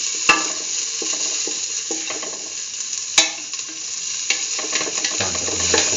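Onion pieces sizzle in hot oil for cumin tomato rice, a steady close frying hiss broken by regular scrapes and taps of a spoon stirring against the pan, with no voices.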